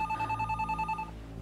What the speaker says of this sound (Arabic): لأشوف مين على التليفون